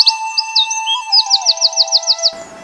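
Pet shop cage birds, finches among them, chirping close by in quick repeated high tweets and trills over a steady electrical hum, ending abruptly.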